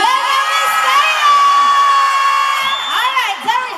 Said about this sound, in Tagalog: Isang malakas na sigawan!